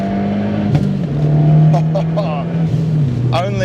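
Fiat Abarth 124 Spider running on the road, its exhaust note droning steadily with rising and falling engine pitch as it drives, while someone talks over it.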